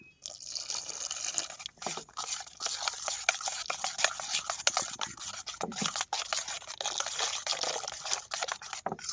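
Water trickles little by little into red lentil dosa batter in a rural kitchen, a close, steady liquid pouring and dripping sound with soft rubbing of the batter throughout.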